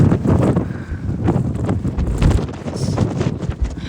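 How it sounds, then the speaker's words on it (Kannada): Strong wind gusts across an exposed outdoor spot on a hill in Wales, a loud steady roar buffeting the microphone throughout with rising and falling surges and no talking. "ಇಲ್ಲಂತೂ ಸೈಕಾಗಿದೆ ಗಾಳಿ."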